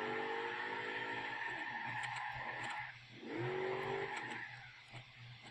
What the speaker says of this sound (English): This is a very loud vehicle now.